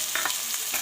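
Tomatoes and spices fry in a pan while being stirred, giving a bright continuous sizzle with a few soft scraping strokes in one short burst.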